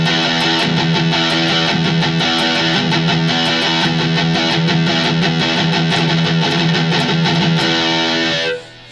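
Distorted metal rhythm guitar played without palm muting, an open, sustained wall of heavy overdriven low chords with a rapid strumming pulse, loud and continuous before cutting off near the end, no voices.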